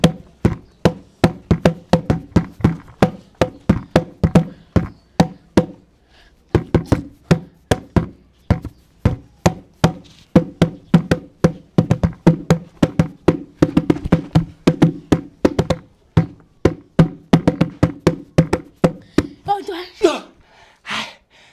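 A drum is beaten by hand in a steady run of loud, sharp, close strikes that keep going for about twenty seconds with only brief pauses. A voice talks now and then around the beats.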